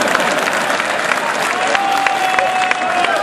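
An audience at a Hindi poetry recital applauding steadily, a dense patter of many hands clapping at moderate volume, with a faint tone running underneath.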